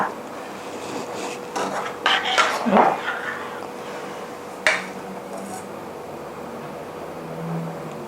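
Mango jelly being spooned into glasses: soft clinks and scrapes of a spoon against glassware and a container, a cluster of sharper knocks early on and one more clink later, fairly quiet and close.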